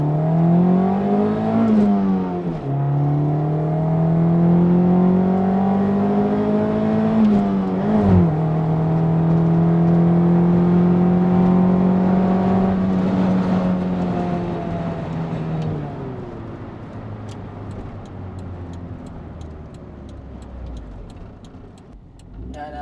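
A Honda CRX with a naturally aspirated 1.6-litre D16A9 engine, heard loud and close from inside as it accelerates through the gears, each rising pull cut by a shift. The engine then eases off into a lower, fading drone.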